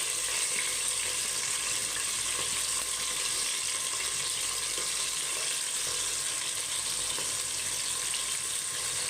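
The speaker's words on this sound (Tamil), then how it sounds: "நம்ம அறுத்து வச்சுருக்கிற பெரிய வெங்காயத்தை இதில் சேர்த்துக்கலாம்" Sliced big onions with green chillies sauté in a pressure cooker for mutton biryani, giving a constant, even frying hiss that holds steady throughout with no pauses and no talking.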